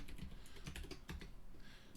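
Computer keyboard typing during Rails coding work: quick irregular clacks of keys, close and fairly quiet, a continuous burst with no voice over it.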